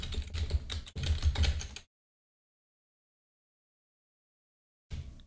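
Rapid bursts of typing on a computer keyboard, close and crisp, with a few seconds of silence before a second short flurry of keystrokes; no voices.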